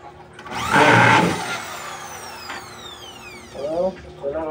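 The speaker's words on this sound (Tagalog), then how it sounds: "Lagyan na natin yung mga butas niya para sa screw." A power drill bores screw holes for fitting a folding door in a short, loud burst near the start. Softer mechanical noise and a person talking follow.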